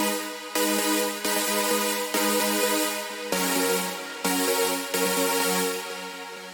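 A bright, wide supersaw synth chord preset for a big-room EDM climax plays alone in a series of sustained stabs, each chord held about a second before switching to the next, loud and full with no talking.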